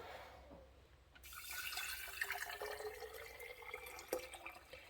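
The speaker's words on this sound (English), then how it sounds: "So now I'll add in my water." Tap water runs into a quart glass jar for a fermented bruschetta brine, a steady splashing pour that starts abruptly and continues close by, with a few small clinks, and no one talking.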